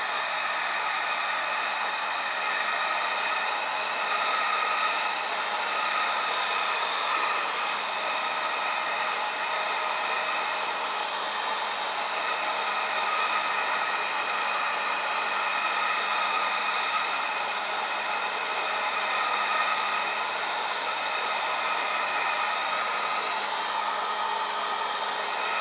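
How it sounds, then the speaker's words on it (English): A heat gun blows steadily on curing resin, producing a loud, constant airy roar with no pauses or voices across the whole stretch. "So we'll help it along with the heat gun."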